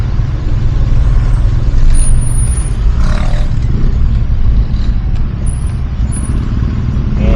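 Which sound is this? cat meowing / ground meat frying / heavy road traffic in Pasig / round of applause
heavy road traffic in Pasig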